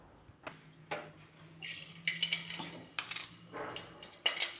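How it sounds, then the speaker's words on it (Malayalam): Mustard seeds drop into hot oil in a pan while parasu rasam is being made, giving scattered crackles and sharp pops that start sparse and grow busier, quiet and close with no talking. "എണ്ണ ചൂടായിട്ടുണ്ട്. അതിലോട്ട് നമുക്ക് കടുക് ഇട്ട് കൊടുക്കാം."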